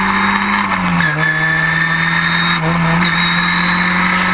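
Historic Formula Ford race cars leaving the start line at Silverstone in 2014, a loud, steady engine drone close by, with brief pitch dips near one second and again near three seconds, and no voices.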